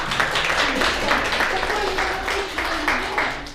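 An audience applauds at a university awards ceremony, dense clapping heard nearby with voices murmuring under it.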